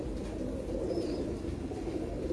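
Pigeons coo softly amid a dense, low, steady murmur of birds, as if a loft full of them is heard up close, with one faint higher chirp and no voices.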